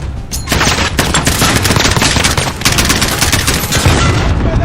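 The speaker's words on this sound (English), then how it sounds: "Get the suppressive fire on that MG!" Machine gun fire in a video game battle, loud sustained bursts of automatic gunfire with rattling volleys and booms nearly continuous across the clip, close and dense, no voices.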